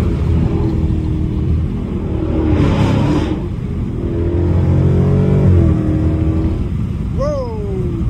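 A Jeep Trackhawk revving hard with its wheels spinning, a loud roaring engine that swells and dips over several seconds, with tire-spin noise and a brief rising squeal near the end.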